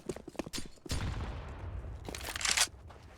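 HE grenade exploding on Dust2 in a Counter-Strike esports match, a sharp loud blast with a lingering rumble, preceded by scattered gunshots and followed by more close shots.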